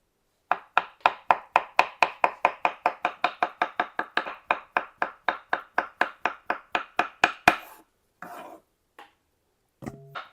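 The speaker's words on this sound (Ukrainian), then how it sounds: "А ти хочеш ковбаски, так? Так. Я тобі зараз виріжу. Велику розрізаємо на двоє." A knife cuts sausage on a board in a fast, even run of about thirty crisp chops. A few scattered knocks and a short pause follow.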